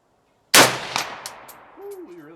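A single loud close shot from a Romanian RPK MD64 rifle, a sharp crack followed by fading echoes and a few metallic rings, with a brief voice starting at the end.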